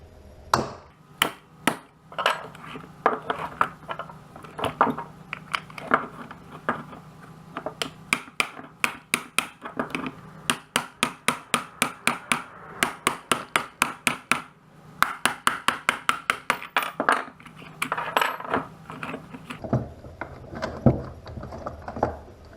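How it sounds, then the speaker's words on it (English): Irregular bursts of sharp metallic taps and clicks, some in quick runs, from a hammer driving a pin out of a Minn Kota trolling motor, close by with no talking. "then you can hammer out this pin part"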